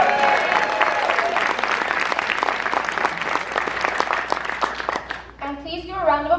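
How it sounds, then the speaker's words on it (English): Applause for a parent choir breaks out at a live event, many hands clapping loudly and steadily for several seconds before fading, and a voice begins speaking over the last of it. "round of applause for our wonderful parent choir"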